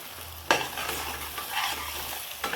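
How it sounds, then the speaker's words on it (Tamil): Tomato and ground masala, rich in poppy seeds and black pepper, are stirred while frying for a chicken pepper fry, a steady sizzle with two louder scraping stirs at the start and end, no talk. "மசாலா போட்டு நம்ம கிண்டி விடணும்"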